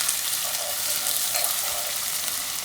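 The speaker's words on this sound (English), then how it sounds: "When the oil is heated, I'm going to add these minced onions" Minced onions, with jalapenos, frying in hot oil in a pan, giving a loud, continuous, crackling sizzle that holds steady and close throughout.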